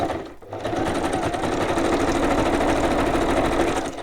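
A sewing machine stitches paper pages for a handmade book project, running as a loud, steady mechanical whir after a brief pause at the start, continuous and close throughout.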